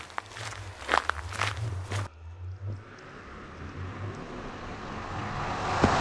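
Footsteps in the Minecraft video game as a player heads toward a desert, a steady run of soft crunchy steps, louder at first and then thinner against a faint background hiss.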